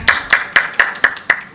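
Audience at an awards ceremony for a national gynaecology and fertility conference in Mumbai clapping, about seven sharp, evenly spaced claps close by in a quick steady rhythm.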